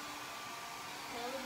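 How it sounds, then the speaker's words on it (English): A blow dryer runs nearby in a dorm room, a brief steady whooshing hum that stays even throughout. "She still got this blow dryer on."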